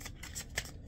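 A stack of trading cards handled and flicked, a few quick papery riffles and snaps close by and faint, over about a second.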